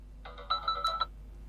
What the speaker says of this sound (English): Now select Alarm Tone